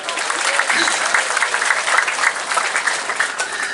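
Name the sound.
applause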